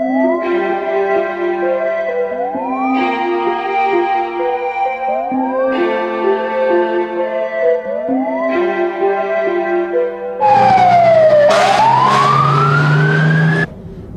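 A fire engine siren wails loud and close in repeated rising-and-falling cycles, then switches to a sharp yelping sweep with a heavy air-horn blast near the end.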